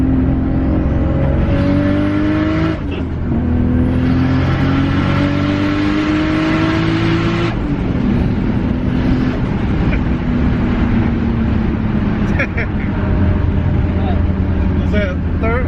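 A 650whp RB25-powered Nissan S15 accelerates hard through the gears, its engine note rising in pitch, dropping at each shift, then climbing again, loud and close from inside the car, with talk over it.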